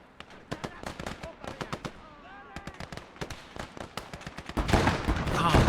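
A grenade goes off in the World War II shooter Gates of Hell: Ostfront, and its swelling roar takes over at the end after a run of sharp, rapid rifle and machine-gun shots, with a brief voice in between.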